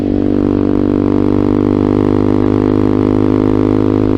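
A Vader ZS190 Honda Grom clone motorcycle being ridden, a loud, steady engine drone with constant throttle and no pauses, heard up close.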